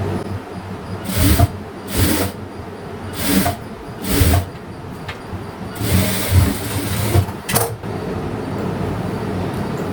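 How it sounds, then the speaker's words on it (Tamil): A sewing machine stitches border cloth onto main cloth in several short, whirring bursts of a few seconds each, separated by pauses, fairly close and with no talking. "மெயின் கிளாத்தும் இந்த பார்டர் கிளாத்தையும் சேர்த்து ஒரு 1/4 இன்ச்சில் ஒரு தையல் போட்டுக்கலாம்."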